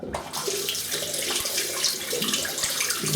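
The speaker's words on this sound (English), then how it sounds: "Just rinsing the razor." A shaving razor rinsed under a running tap during a traditional wet shave, the water gushing steadily and close into the sink, with a couple of faint knocks of the razor and no talk.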